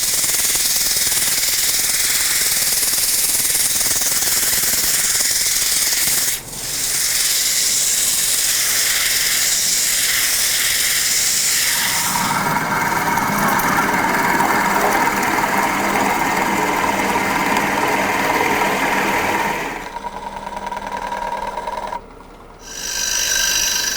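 Continuous hissing, whirring friction from sanding a spinning wooden bongo bowl on a lathe, changing tone midway, then pausing briefly near the end.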